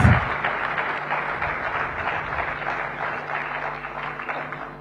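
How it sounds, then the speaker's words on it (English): Audience applause fills a convention hall in Mumbai at a chamber of commerce event, a steady, dense wash of clapping that holds throughout and slowly tapers toward the end. "Come on, Mumbai, we can be much more kind with our applause."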